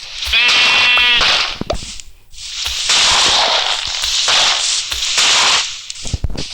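In a video game, a loud sheep bleat rings out, followed by a stretch of noisy crackling and rustling sound effects, with no one speaking.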